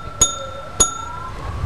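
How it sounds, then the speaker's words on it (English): A wrestling ring bell is struck twice by the timekeeper, two sharp metallic clangs about half a second apart, each leaving a ringing tone that fades slowly. "Ring the bell there, time keep."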